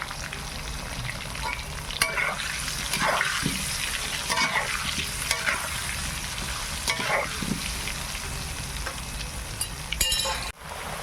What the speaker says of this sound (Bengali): আলুটা ভাজা হয়ে গেছে, এবার তুলে নেই।